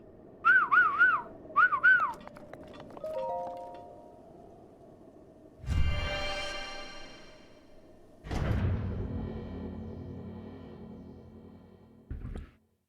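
A character in Breath of the Wild whistles in two short rising-falling bursts, then a brief lower whistle, followed by whooshing thuds and game sound effects. No one speaks.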